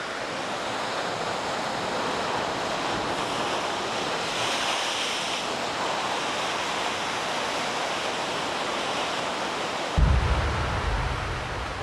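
Strong waves crash against the rugged coast of Christmas Island, a loud, continuous roar of surf mixed with wind buffeting the microphone, swelling in a heavier gust near the end.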